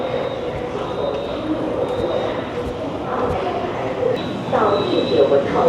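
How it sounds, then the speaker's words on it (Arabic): A Line 1 metro train in China pulls into a station, with a steady rumbling roar, screeching rail noise and rising clatter near the end while someone talks over it. "هذا القطار اللاين 1"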